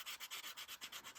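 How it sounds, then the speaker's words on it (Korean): Sandpaper rubbed gently along the doubled, glued edges of a handmade folding leather card wallet, a quiet, steady back-and-forth scraping in about ten even strokes, close up with no talk. "두 겹 붙은 부분은 단차가 있으니까 그 단차를 없애주기 위해서 사포로 살살 긁어주실 거예요."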